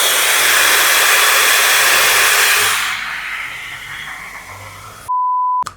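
A hair dryer blows loud and close on heavily sprayed hair, a strong rushing whoosh that drops to a lower setting, then cuts off, followed by a short electronic beep.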